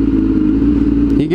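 Zelita motorcycle engine running close by, a steady loud mid-pitched drone with a slight pitch rise near the end.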